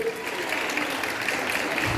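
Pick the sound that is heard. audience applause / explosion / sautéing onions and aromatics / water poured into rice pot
audience applause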